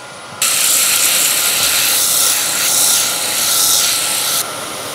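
A small wooden gonk hat piece is sanded on a spinning lathe, a sudden loud hissing abrasive rasp starting and stopping cleanly over about four seconds, swelling slightly in waves as the paper is pressed, with no voices.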